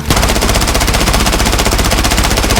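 Rapid, loud automatic gunfire in the shooter game Blood Strike, a continuous rattling burst with evenly spaced shots lasting the whole stretch, alone without speech.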